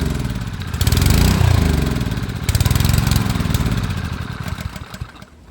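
A Honda pressure washer engine with a carburetor fault starts on choke, revving up loud and rough, then surges and falters before sputtering down toward stalling at the end.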